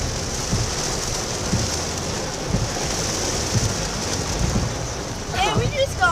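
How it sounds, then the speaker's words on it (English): Heavy rain pours down steadily outside, a dense hissing wash with occasional heavier drops and thuds, while a voice speaks briefly near the end. "Now he's videoing the rain out here."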